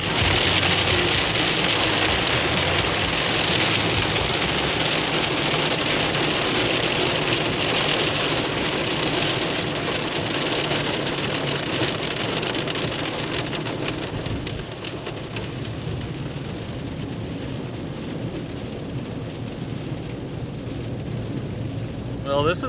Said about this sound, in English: That was quite the little rainstorm.